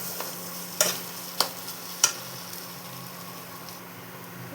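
Mashed taro paste (maan kochu) being fried and stirred dry in a pan, with a faint steady sizzle and three or four sharp scraping clicks of the spoon against the pan, quiet and close.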